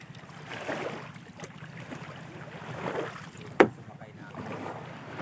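Small fishing boat setting out to sea before dawn, with a steady low engine drone, wind and water noise throughout and one sharp knock partway through.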